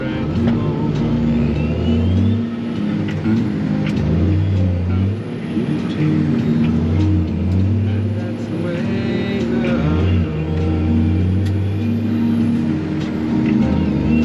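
Loaded Peterbilt truck with a Cummins engine drones loudly and steadily while the gears change, with repeated dips and rises in engine pitch as it shifts; a voice talks over it.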